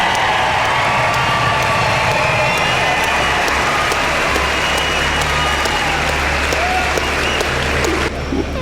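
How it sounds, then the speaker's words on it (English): A crowd in Cranbrook applauds the two Niedermayer brothers, Stanley Cup champions, in a rink, loud dense clapping with scattered cheers and whoops that holds steady, easing slightly at the end. "A quick Cranbrook applause for the two Niedermayer brothers"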